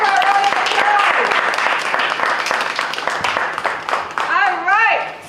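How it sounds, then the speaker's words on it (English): An audience at a real estate school graduation ceremony in Guyana claps in a dense burst of applause that gradually thins, while a speaker talks over it and cheers rise near the end. "Please give her a round of applause."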